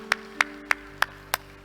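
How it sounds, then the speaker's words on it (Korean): Slow, evenly spaced claps in a church service, six sharp distinct hits about a third of a second apart over a low steady hum, with no talk. "우리 하나님께 영광의 박수합니다"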